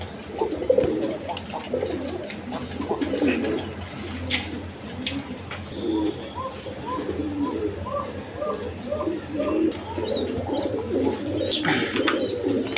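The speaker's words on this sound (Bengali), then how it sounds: "এখানে এক পেয়ার কবুতর আছে দেখেন আর্মি কবুতর" Army pigeons in a loft coo repeatedly in soft, overlapping rolling calls, close and steady over a low background hum, with no voices.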